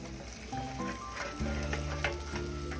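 Burgers sizzling in a frying pan on the stove, a steady close crackle and hiss with occasional louder pops, heard alone.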